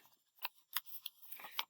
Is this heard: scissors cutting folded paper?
yes